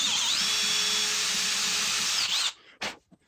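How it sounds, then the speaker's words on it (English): A power drill boring holes into a cigar box while building a guitar gives a steady, high whine that runs for a couple of seconds, then cuts off, followed by two brief bursts of drilling. "Once those two holes are drilled, then we'll be able to connect them together and make an open slot for the wire to pass through."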